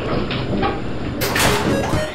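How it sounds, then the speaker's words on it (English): Doors of a fast scenic Otis traction elevator in a hotel slide shut, a close, fairly loud sliding rumble that swells near the end. "Doors closing."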